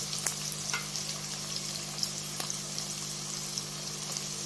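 Ingredients for dal sizzle and fry in a pan, a soft, steady crackle with occasional sharper pops, faint and close, with no voices.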